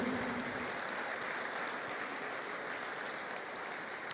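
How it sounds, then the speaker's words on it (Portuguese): Sustained applause from a large church congregation, a dense steady clatter of clapping hands holding at even loudness throughout. "Você pode aplaudir e louvar o nome de Jesus"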